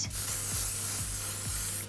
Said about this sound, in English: So we're going to finish off the whole look with a lot of hairspray